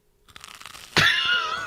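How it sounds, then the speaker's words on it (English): A single loud crunch as someone bites into crisp, well-browned French toast made on brioche. Faint rustling comes first, then a sharp, close bite with crackling that trails off. "Now that's some crunchy toast."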